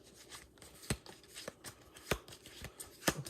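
A deck of playing cards is shuffled during a tabletop board game, giving a run of soft riffling flutters with several sharper snaps, close and moderately quiet with no talking.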